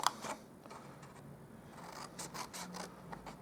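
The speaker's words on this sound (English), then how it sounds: "And then we're going to cut up the score line here" Scissors snip along the score line of card stock for a Poinsettia Petals gift box, a few quiet scraping cuts in short bursts, close and soft with no voices.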